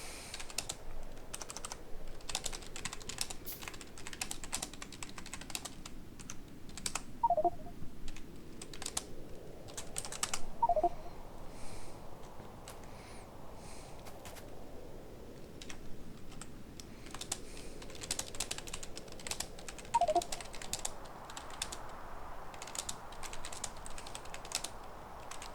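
Keyboard typing during a Factorio gaming session, with steady, dense key clatter running throughout at a moderate, fairly close level and no voices, though the tags and picture cannot pin down the exact keyboard.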